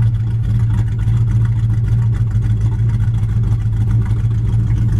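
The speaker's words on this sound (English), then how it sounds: "It's got a really nice sound and dual exhaust." A 1973 Dodge Charger engine with dual exhaust idles with a deep, steady exhaust rumble, close and loud, holding an even tone throughout.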